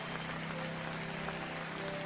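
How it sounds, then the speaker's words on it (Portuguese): Faint church congregation applause, a soft, steady wash of clapping at a distance with a low background hum. "Você pode aplaudir ao Senhor."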